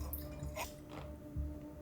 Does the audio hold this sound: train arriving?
no